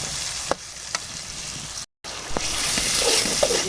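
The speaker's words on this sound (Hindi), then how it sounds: "अब मैं इसके अंदर टमाटर डालूंगी।" Steady close sizzling of chopped tomato frying in oil in a pan for arvi masala, with a few soft stirring clicks and one momentary break.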